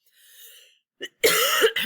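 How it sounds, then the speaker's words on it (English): A single sharp, close tickly cough breaks the quiet, followed by a rough throat-clearing rasp. "I have a tickly cough for the past 3 weeks"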